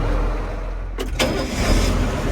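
A farm equipment engine for a feed cart cranks and catches midway through, moving from a low idle rumble to a sudden starting burst, then settling into a steady running drone.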